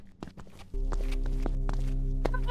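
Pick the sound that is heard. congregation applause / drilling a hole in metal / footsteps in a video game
footsteps in a video game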